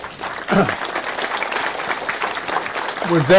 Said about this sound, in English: were they clapping for me or for you?